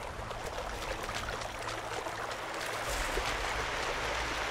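A rushing waterfall in the video game The Witcher 2 gives a steady, dense roar of falling water that holds at an even, close level throughout with no break.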